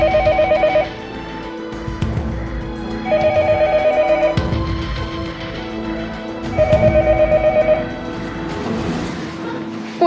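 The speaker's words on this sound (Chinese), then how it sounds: "没事，不用座机，先打个电话回科室" A landline telephone rings on a call to a hospital department: three spaced bursts of bright electronic ringing, each lasting about a second, over a steady low room hum.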